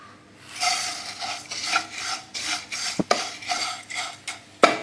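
Vermicelli roasting in ghee for semiya kesari while a utensil stirs it around the pan, making rhythmic scraping strokes broken by a few sharp metallic knocks, close and fairly loud, without speech.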